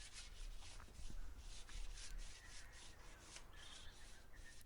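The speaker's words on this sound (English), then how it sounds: "I gave a light sanding to the metal frames" Repeated rasping strokes of sandpaper lightly sanding metal chair frames, a steady back-and-forth scratching rhythm, close and fairly quiet.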